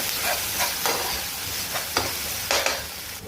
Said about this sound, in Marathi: सॉस टाकायचा असा घासून घ्यायचा